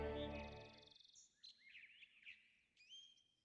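Soft pigeon calls, a few short warbling coos and chirps at low volume after a brief tonal swell fades out, in an otherwise quiet space.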